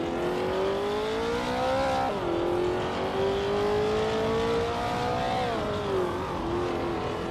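Vintage Porsche race cars lapping a track with tight corners and straights, a sustained loud engine drone rising and falling in pitch as the cars shift and accelerate, heard close and without any talk.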